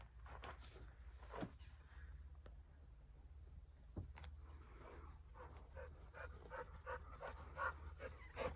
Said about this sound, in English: We got a dog in the car.